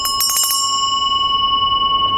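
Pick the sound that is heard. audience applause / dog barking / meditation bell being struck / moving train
meditation bell being struck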